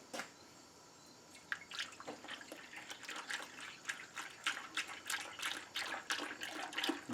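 A gallon of coolant concentrate is poured through a funnel into the triple-row radiator of a Ford 347 stroker build. Liquid gurgles and splashes unevenly for several seconds, growing busier as it flows.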